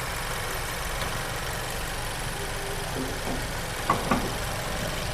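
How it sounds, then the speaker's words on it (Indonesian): A Honda HR-V RS turbo engine from 2022 idles steadily under an open hood, a constant close hum with a couple of faint knocks near the end. "Nah, kita cek ya mesin turbonya nih."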